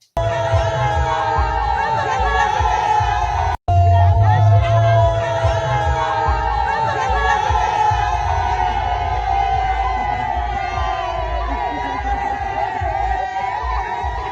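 A crowd shouting continuously and loudly, a dense roar of many voices with a brief cut near the start before the din resumes and holds steady.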